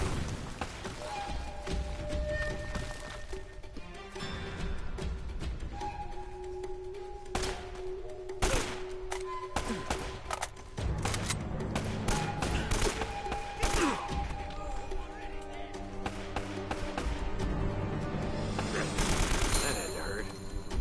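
Sustained gunfire from the video game Uncharted: Drake's Fortune, with rapid bursts, single shots and impacts going off throughout, loud and close, with a player's voice talking over parts of it.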